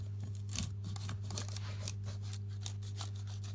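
A knife slides along a wooden bee frame, scraping off excess in a run of short, dry rasping strokes, close and steady over a low background hum, with no one speaking.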